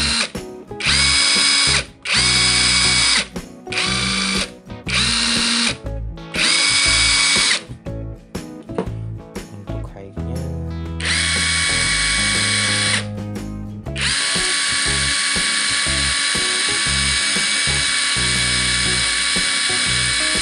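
A modified impact driver, slowed down so it is less aggressive, runs at high speed in loud bursts. First come several short, choppy whirring pulses, then two sustained high-pitched whines, with no one talking.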